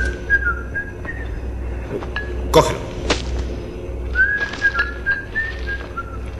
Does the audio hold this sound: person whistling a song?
yes